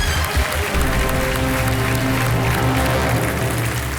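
Studio audience applause on a TV quiz show welcoming contestants, including a farmer from Hingoli, Maharashtra; loud, steady clapping throughout with a low hum of music or crowd underneath.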